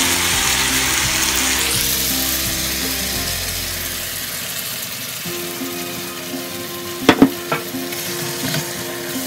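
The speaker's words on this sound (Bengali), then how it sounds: "এখন ডালগুলো দিয়ে দিচ্ছি" Lentils (dal) go into a hot pan on lowered heat and fry with a steady, close sizzle. A few sharp utensil clinks cut in near the end, with no talking.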